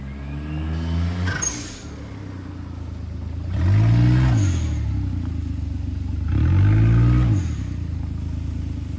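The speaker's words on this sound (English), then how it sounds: "You hear more of the turbo than you hear the muffler" A turbocharged Suzuki Wagon R with an aftermarket Apexi exhaust revs hard twice, each rise swelling loudly then falling back, with a rough, droning exhaust note and a faint turbo whine in between.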